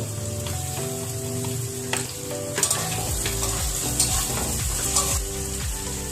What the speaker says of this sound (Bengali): পেঁয়াজটা ভাজা হয়ে গেছে, রসুন বাটা দিয়ে দিলাম।